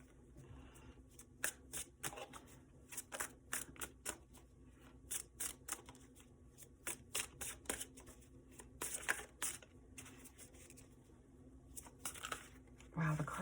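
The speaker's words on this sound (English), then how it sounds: "I'm having a hard time shuffling, which is weird." A deck of tarot cards is shuffled over and over, giving crisp papery riffles and flutters in irregular bursts, close and clear against a quiet room.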